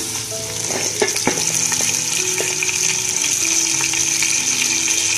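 Half a kilo of frozen tomato paste hits softened onions in a pan for dhaba-style mutton bhuna gosht, and it sizzles and fries steadily and loudly. Stirring clatters now and then, and no one speaks.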